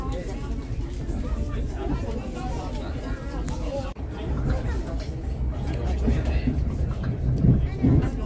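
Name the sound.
train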